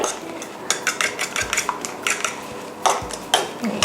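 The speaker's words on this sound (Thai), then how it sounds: "ตีให้เข้ากันเหมือนไข่เจียวอะค่ะ" Eggs for an omelet pizza get whisked in a bowl, quick irregular clinks and taps of a utensil against the dish repeating in short bursts, close and fairly loud, no voices.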